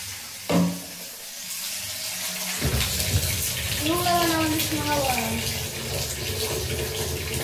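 Water runs from a tap into a container for rinsing in a home kitchen, a steady rushing splash that starts after a brief knock, with a voice talking over it partway through.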